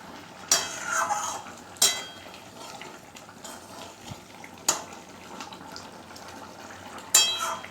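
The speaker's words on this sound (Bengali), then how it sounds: "একটু নাড়াচাড়া করে নেব।" A spoon stirs a chicken curry with ground garam masala in a pan, giving a few sharp metallic clinks and scrapes spaced seconds apart over a low, quiet kitchen background.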